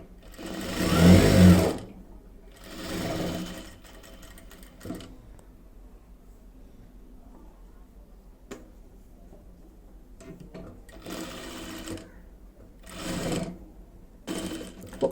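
A sewing machine stitching a frock whirs in several loud close bursts, one to two seconds each, separated by quiet pauses with faint handling noises.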